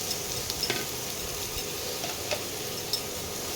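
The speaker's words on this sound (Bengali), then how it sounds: "একটু ভাজা ভাজা করে নিই।" Onions frying in a pan for spinach chicken give a steady close sizzle, with a few light scrapes and taps of stirring.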